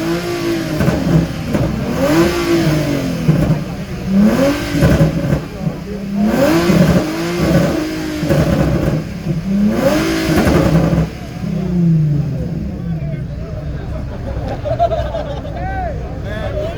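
A Z car accelerates hard away at a JDM car meet, its engine revving up in repeated rising surges and gear changes before fading into the distance, with a crowd talking and cheering around it.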